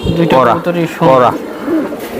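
A pair of Giribaz pigeons, a female and a male, give short, loud, close-up coos in quick succession. The coos are throaty and rising, with a brief pause between calls.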